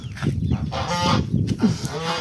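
Several geese honk loudly up close, their nasal calls overlapping in quick succession.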